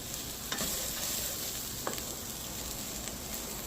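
Ginger and garlic being stirred and fried in a pan for pilaf, with a steady close sizzle and a few sharp scrapes of the spoon, no voices.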